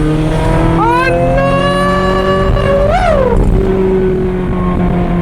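A 16-year-old Ferrari F430 fitted with an iPE exhaust, heard from inside while driving, gives a loud, constant engine drone that rises and falls through the gears, with sharp climbs in pitch under throttle.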